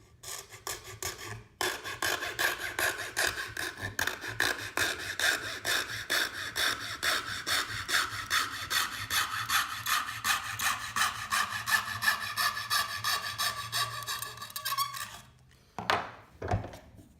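Junior hacksaw cutting a workpiece clamped in a vise, a steady rasping back-and-forth rhythm that runs close and continuous for about fifteen seconds, then stops with a couple of light knocks.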